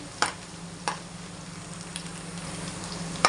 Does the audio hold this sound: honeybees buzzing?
no